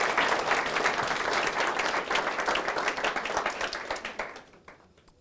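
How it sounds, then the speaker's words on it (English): A full room at a patient-talk conference breaks into loud, dense applause that holds steady for several seconds, then thins and dies away into near silence. "I just wanted to give a round of applause to Savita for that."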